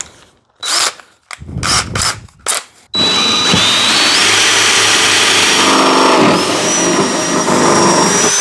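A power drill fitted with the bit supplied for the plug bores a plug hole in an Old Town Ocean Kayak Malibu PDL hull, with several short bursts first, then a loud, sustained whine right up close.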